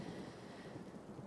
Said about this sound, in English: rain pelting the windows